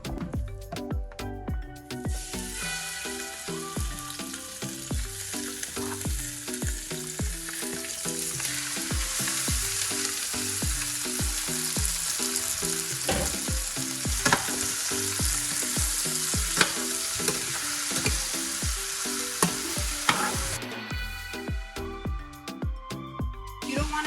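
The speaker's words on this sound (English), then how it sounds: "So I'm gonna go ahead and put the carne now." Pork meat for a green-sauce dish fries loudly in a pan, a dense continuous sizzle with stirring scrapes and occasional pops lasting throughout, with no talking.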